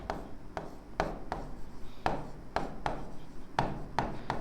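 Chalk or pen strokes writing out a lesson on conic sections in a maths class, a series of short scratchy taps and scrapes at an irregular rhythm, close and moderately quiet with no talking.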